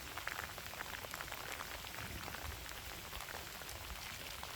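Rain falls steadily during the rainy season, a dense even patter of drops on surfaces with no pauses and no voices.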